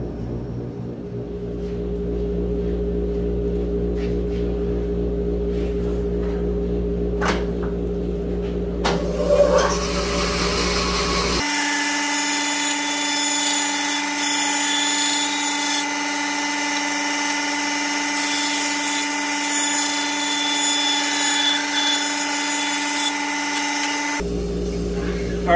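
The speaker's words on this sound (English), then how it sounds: "All right, let's go to the bandsaw." A bandsaw cuts a live edge wood slab. A steady motor hum comes first, then the loud, sustained grinding whine of the blade in the wood, close up and continuous for most of the clip before it stops.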